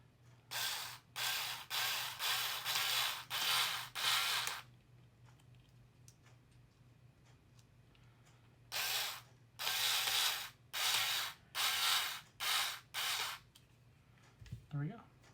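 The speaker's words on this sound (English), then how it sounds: "I can just drive it home with the screwdriver" A screwdriver drives a screw into the front end of a Tamiya XV-01 Lancia Delta Integrale RC car kit, giving two runs of loud, rapid ratcheting clicks separated by a quiet pause, with no talking.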